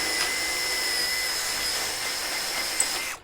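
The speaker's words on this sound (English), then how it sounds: "so just re-drill your hole" A power drill whirs steadily as it re-bores a misaligned screw hole through a steel shed channel, then stops abruptly.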